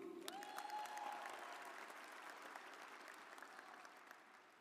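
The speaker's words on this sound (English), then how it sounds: "Give another round of applause for Phoebe." An audience at a high school commencement ceremony applauds a student speaker, a broad wash of clapping from a large crowd that holds steady, then gradually tapers off.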